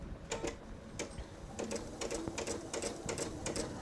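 A sewing machine with a 1/4 inch piecing foot stitches log cabin quilt pieces in quick, close, rattling runs of needle strokes, pausing and restarting across the clip.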